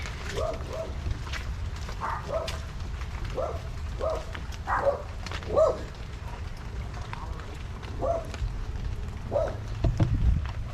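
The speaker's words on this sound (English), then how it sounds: "I hear the pups barking." Several dogs bark in scattered bursts at a distance, muffled and fairly faint over low background rumble.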